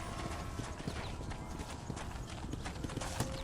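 Horse hooves clip-clop steadily on the ground in the Red Dead Redemption video game, a quick even rhythm of light strikes heard close against a constant game ambience.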